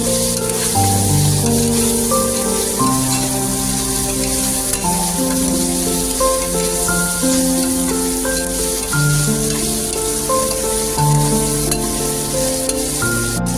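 Mixed vegetables for veg pulao sizzle loudly in a hot pan, a constant crackling fry with stirring going on throughout and no voices.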